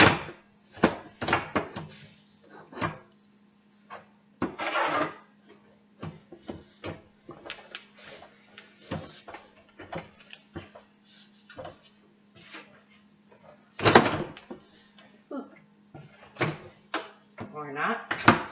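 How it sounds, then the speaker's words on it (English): A Home Depot drawer being pushed and shoved into its cabinet slides during assembly, making a series of close wooden knocks, scrapes and clunks in irregular bursts, with a quiet background hum throughout. "So I'm going to pull the drawer out. I'm going to shove this in at the very top of the drawer."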